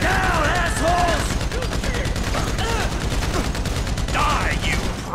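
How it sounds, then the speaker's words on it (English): Rapid, dense gunfire rattles almost without pause through a GTA V bank robbery shootout with police, loud and close, with shouted voices breaking through the bursts. "So I guess we're shooting our way out of here!"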